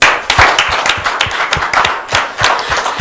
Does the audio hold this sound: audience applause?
yes